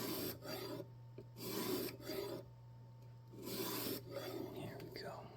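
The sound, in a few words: knife sharpening on a jig system sharpener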